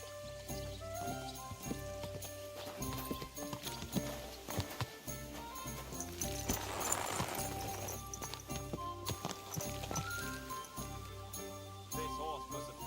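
Horse hooves clop steadily in the medieval game Kingdom Come Deliverance 2, faint and low under a busy background of jingling tack, music and ambient sound.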